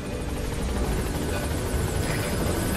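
Helicopter in the Metal Gear video game, the Pequod, arriving at a landing zone: a steady, loud rotor whir and buzz that fills the whole stretch without pause, with no voices.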